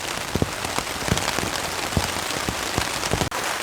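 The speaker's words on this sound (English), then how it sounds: "It's raining." Steady rain pattering on a surface at a Canadian wilderness hammock campsite, with scattered louder drops tapping through a constant wash of noise.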